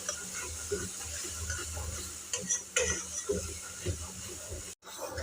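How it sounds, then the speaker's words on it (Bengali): Long bean paste with salt and turmeric is stirred in mustard oil in a pan, giving a steady soft sizzle under repeated scraping strokes of a spoon, with a brief cutout near the end. "নুন হলুদ দিয়েছি, দিয়ে ভালো করে এটাকে নাড়িয়ে চাড়িয়ে নেব।"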